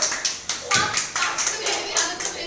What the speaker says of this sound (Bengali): হাততালি দে